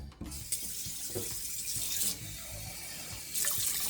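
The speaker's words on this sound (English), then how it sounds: "I'm going to add some water." Water running from a kitchen tap into a cooking pot of simmering mixed vegetables, a continuous splashing stream with shifting tone as the flow changes, near and clear.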